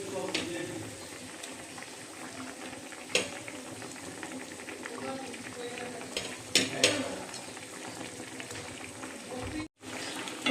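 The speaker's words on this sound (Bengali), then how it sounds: "ঝোলটা ফুটে উঠতে শুরু করেছে। মাছগুলি দিয়ে দিচ্ছি" Tomato fish curry boiling in a pan as pieces of fried fish are added, with a steady bubbling simmer and a few soft splashes and clinks near the end.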